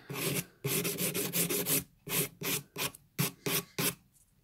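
A nail file rasps an acrylic nail on a hand trainer in short, rhythmic strokes, about a dozen bursts of close scraping separated by brief pauses.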